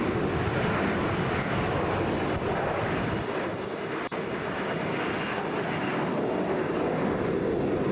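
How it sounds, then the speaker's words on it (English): A Delta Airbus A321 roars down the runway and lifts off at Atlanta's international airport, a loud, steady broadband engine rumble with wind buffeting the microphone, sustained without pause. "That is Delta Flight 499, headed for Denver, wheels up on that Airbus A321."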